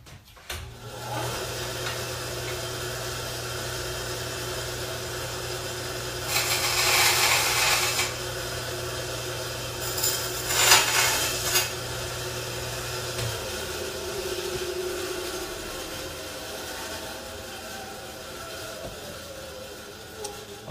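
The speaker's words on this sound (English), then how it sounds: "I made 2 cuts with my bandsaw" Bandsaw cutting through a Majorette GMC Brigadier toy truck: a motor hum runs steadily while two harsh, loud cutting bursts of blade on metal and plastic rise and fade, no voices.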